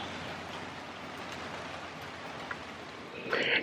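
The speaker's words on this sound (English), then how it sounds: "Nothing like a good evening rain." Evening rain falls on the grounds of a Colonial Williamsburg inn beside lawns overlooking a golf course, a steady even patter and hiss throughout with a brief louder splash near the end.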